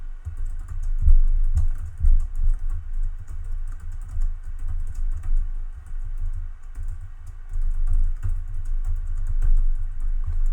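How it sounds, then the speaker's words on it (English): Soft, continuous clicking of keys on a computer keyboard, quick irregular taps close by, with no talking. "I'm just typing a message here"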